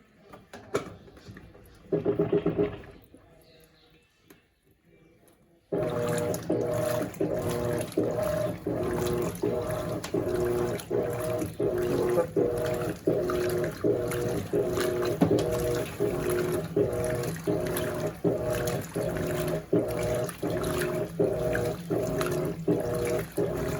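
An Electrolux 16 kg top-loading washing machine with jet and clean technology fills with water for its first rinse. After a brief quiet pause, a steady, continuous rush of water starts and runs nonstop at moderate level.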